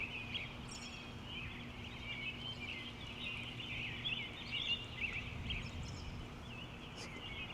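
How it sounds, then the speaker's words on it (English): Birds chorus outdoors on a wet, rain-free morning, a dense, steady layer of chirps and calls at moderate distance that runs through the whole stretch with no talking. "Listen to the birds."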